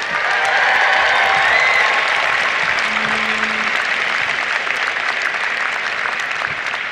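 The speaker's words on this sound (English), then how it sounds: "let's give a slightly bigger round of applause to your families" Sustained applause from a large crowd at a university commencement ceremony, steady and dense for the whole stretch, with no speech over it.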